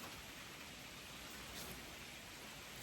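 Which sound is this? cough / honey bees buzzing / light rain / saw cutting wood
light rain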